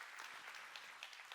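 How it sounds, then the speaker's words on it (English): An event audience claps for presenters from Beacon Economics, a faint, even burst of applause at a distance, with no talking. "join me once again in giving a round of applause for our presenters"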